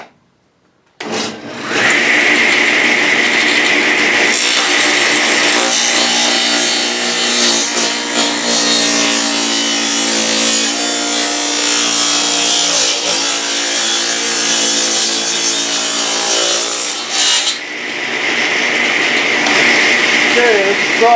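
A freshly sharpened saw blade cuts through solid maple in one long, loud, sustained whine lasting most of the stretch, starting abruptly after a moment of quiet and easing off near the end.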